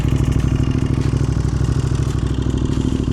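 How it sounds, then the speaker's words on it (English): Aprilia RS 660 motorcycle engine on a cold start, a rough, rapid idle with a clattery mechanical rhythm, loud and close throughout. "So this is really a cold start."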